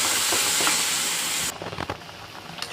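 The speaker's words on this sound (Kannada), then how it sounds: "ಚೆನ್ನಾಗಿ ಕಲಿಸ್ಬೇಕು" Spicy pasta with pepper and magic masala gives a loud, steady sizzle in the pan that suddenly drops away, then gives way to uneven scraping and stirring clatter close by.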